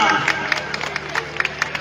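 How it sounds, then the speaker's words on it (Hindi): Audience applause at a civic felicitation ceremony in a market area, scattered sharp claps over crowd murmur and a steady hum, with voices in the background. "तालियां।"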